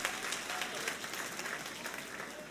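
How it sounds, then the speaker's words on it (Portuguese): A church congregation applauding, a dense steady wash of many hands clapping together, sustained and even throughout, fairly distant and filling the room. "Você pode aplaudir Jesus?"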